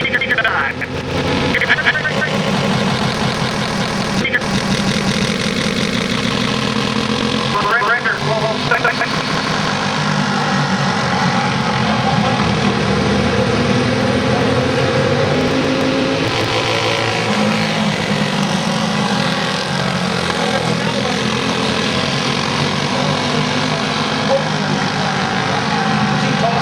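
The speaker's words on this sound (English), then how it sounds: "Here comes the karting." Racing go-karts at Penns Creek Raceway Park, a dense continuous engine drone at steady loudness throughout with a few brief higher-pitched revving passes, while an announcer talks over it.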